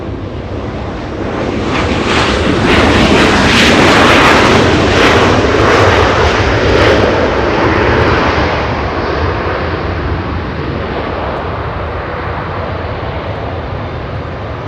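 An Air Canada jet takes off from runway 24 Left at Los Angeles International Airport. Its loud, steady engine roar swells over the first few seconds, then holds as a broad rumbling wash and eases off slightly toward the end.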